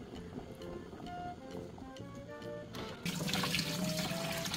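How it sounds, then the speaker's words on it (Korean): Boiled butterbur stalks get rinsed in cold water, tap water running and sloshing in a sink, growing to a louder gushing stream partway through, close and steady. "찬물에 바로 담가서 서너 번 헹구고 물기 빼서 준비합니다."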